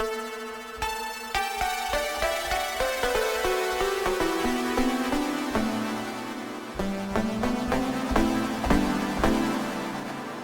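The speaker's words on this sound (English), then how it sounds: "So let's bring in the muted guitar." Muted guitar string stabs layered with a synth pad in Ableton, a steady run of short plucked notes at a moderate, even rhythm, fairly loud and close, with no talking.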